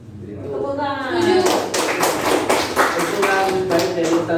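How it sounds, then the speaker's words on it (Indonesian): Rhythmic group clapping at a school gathering: sharp claps in a quick, steady pattern that starts after a second of voices and continues under talking. "Tepuk tangan."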